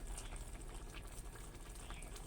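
Soft, continuous bubbling of sweet-leaf and mushroom curry simmering in a pot on an electric pan, a gentle steady gurgle with faint pops, nobody talking.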